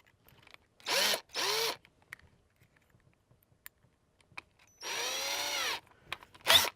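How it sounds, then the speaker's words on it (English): A power drill whirs in four short bursts, each about a second long, drilling a 5/32 hole into a vehicle dashboard, with quiet handling clicks between them, close by. "So, take my power drill."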